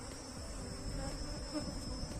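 Honeybees on a hive frame holding the queen bee give off a dense, steady buzz, close and continuous with a high whining edge and a faint droning hum underneath.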